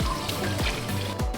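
Tap water splashes and trickles over a whole raw chicken being rinsed in a kitchen, a close, continuous wet pouring with a few gurgling bursts and no talk.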